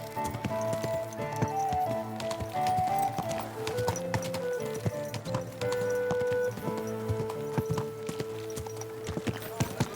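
Horse hooves clip-clop steadily through a medieval game world in Kingdom Come Deliverance 2, a rhythmic run of steps set against a dense bed of game music, with a rider's voice talking now and then.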